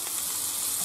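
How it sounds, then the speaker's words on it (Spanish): Cockles hit a hot pan for artichokes a la marinera, a bright, dense hiss of frying that holds steady and loud through a brief moment, no voices. "Ahora lo que hacemos es echar los berberechos,"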